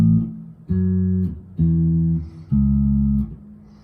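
Guitar playing a song phrase, four plucked low notes that each ring for about half a second with brief gaps, close and clear with no voice.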